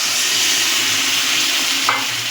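Potatoes frying with white mustard, tomato and chili paste stirred in a pan, giving a continuous hiss and sizzle with soft scraping of the spoon, close and steady without talk.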